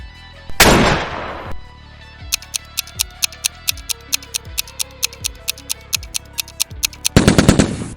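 SCAR-KING assault rifle fire in PUBG: a sharp burst, then a long run of evenly spaced single shots, closing with another dense rapid burst, loud and close with no voices.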